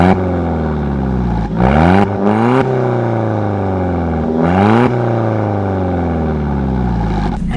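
Alfa Romeo 4C sports car engine revving loudly and close, climbing through rising pitch sweeps with two sharp gear changes or blips, steady and continuous with no talk.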